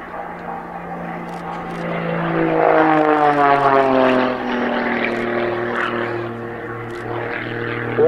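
A Pitts Special aerobatic biplane's propeller engine at the RAF Cosford Airshow drones loudly and steadily, its pitch sliding downward then rising again as it climbs and maneuvers overhead.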